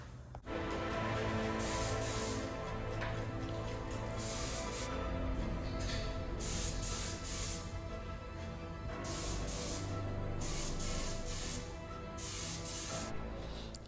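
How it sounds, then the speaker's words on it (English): Spray gun hissing steadily as Cerakote coating goes onto hung exhaust manifolds, a continuous close airy spray with brief pauses between passes. "Now, time to spray."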